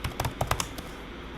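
Quick keystrokes tap on a computer keyboard in a close, uneven burst of about eight clicks, then stop, with no talk over them.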